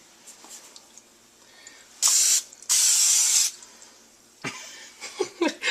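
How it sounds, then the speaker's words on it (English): Two loud hissing bursts of cooking spray onto a pan, a short one then a longer one, close by, followed by faint clattering. "Let's spray the pan with some cooking spray."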